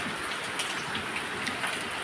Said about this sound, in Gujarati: અમારે વરસાદની શરૂઆત થઈ